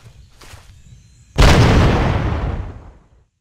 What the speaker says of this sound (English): here's a grenade